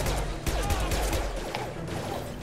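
Bursts of gunfire during a firefight in Mass Effect 2, close, sharp reports over busy game noise, with a faint voice underneath.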